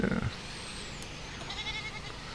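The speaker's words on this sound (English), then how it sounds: "Kind of nosy goat. Noisy, not nosy. Noisy." A goat in the farm-building game Airport Renovator gives a soft bleat, heard faintly over steady game ambience with a brief clatter at the start.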